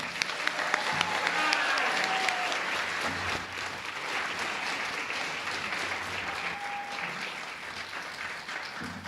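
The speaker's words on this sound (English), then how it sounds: "Can we give all our spellers a round of applause?" An audience at a school spelling bee final gives sustained, steady applause for the spellers. A few faint voices and whistles rise over the clapping.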